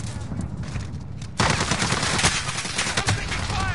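Rapid bursts of automatic gunfire in a Call of Duty multiplayer match, loud and sustained after a quieter opening, crackling continuously with overlapping shots and game sounds.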